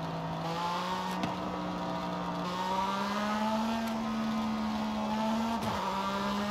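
A stock Porsche engine in Forza Horizon 5 holds a steady, moderate hum with its pitch creeping gently upward. It sounds fairly quiet and even, with no talking.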